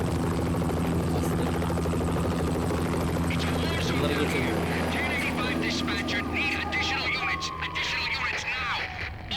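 A helicopter's loud, steady rotor drone in the video game Max Payne fills the scene, joined late by a falling siren tone and scattered clicks and thumps.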